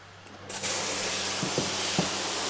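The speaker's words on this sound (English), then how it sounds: "I'm going to press the spray bar." Water jets from the spray bar of a Profi drum filter on a garden pond, a broad steady hiss that bursts on suddenly and keeps going loud and close, with a few faint knocks underneath.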